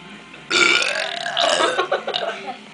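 A single long, loud, close-up human burp rolls on for about two seconds, strained and gurgling.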